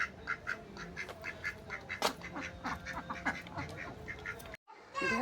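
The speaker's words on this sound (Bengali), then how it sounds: "কটা হাঁস," Ducks at an abandoned village farm quack repeatedly in a lively, overlapping chorus at moderate distance, with a brief silence near the end before more sound returns.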